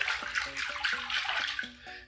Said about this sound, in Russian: налить немножечко мыла в нашу воду, побультыхать, чтобы она стала немножечко мыльной